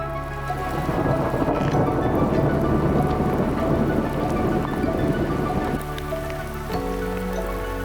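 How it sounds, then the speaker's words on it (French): Low thunder rumbles and rolls continuously, echoing between mountains in the ZEC de la Rivière-Blanche, beneath steady heavy rain, loud and close, with no voices. "le bruit du tonnerre qui résonne entre les montagnes"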